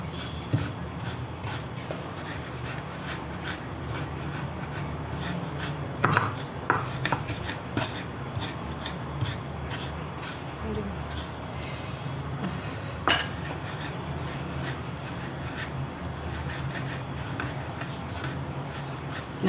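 Spices pounded in a stone ulekan mortar with a pestle, a steady series of dull, close knocks and grinding scrapes with occasional sharper clinks, moderately quiet throughout.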